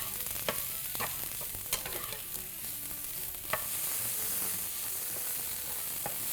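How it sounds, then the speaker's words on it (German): King oyster mushrooms and finely sliced spring onion rings fry in hot oil in a pan, a continuous close sizzle broken by repeated scraping and stirring clicks, with no talking. "Die Kräuterseitlinge, die kommen dann ins heiße Öl, zusammen mit der Frühlingszwiebel, die ich in feine Ringe geschnitten habe."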